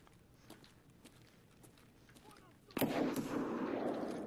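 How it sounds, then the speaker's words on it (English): Gunfire from a scav in the Escape from Tarkov video game starts as scattered faint footstep-like taps, then one loud sharp shot with a sustained noisy reverberant tail that stays loud to the end. "That's a scav shooting at me."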